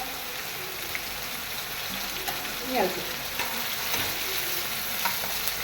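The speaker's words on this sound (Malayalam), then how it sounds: "ഇനി നമുക്ക് ഉള്ളി ഇട്ട് കൊടുക്കാം മുളക്" Onion, chili and curry leaves frying in a hot pan for a home-style jackfruit seed and amaranth stem curry, a steady soft sizzle with occasional stirring scrapes, close and fairly quiet, with no talking.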